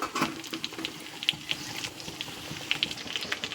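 Chicken frying in a pan with a steady, soft sizzle and crackle, with occasional faint clinks of a utensil, heard close and alone.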